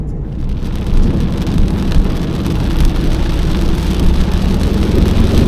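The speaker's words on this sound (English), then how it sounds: "it's raining" Steady, heavy rain pours down continuously, a dense hiss with a low rumble beneath it, loud and close throughout.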